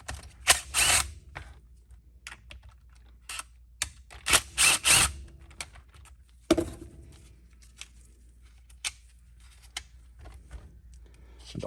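Three screws undone with a T20 Torx bit during a Troy-Bilt TB25 teardown, heard as short bursts of close ratchet clicking and light mechanical taps separated by quiet gaps.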